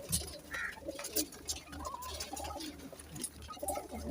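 A group of about 35 domestic pigeons coos in soft, repeated, throaty calls that overlap near and far, with steady chirps and rustling around them.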